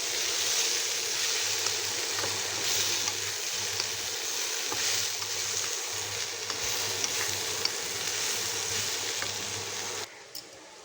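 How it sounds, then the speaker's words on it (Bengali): Jackfruit pieces frying in hot oil until lightly browned, a steady close sizzle running continuously with faint stirring, stopping abruptly near the end. "কাঁঠালটাকে হালকা ব্রাউন কালার করে ভেজে নিলাম।"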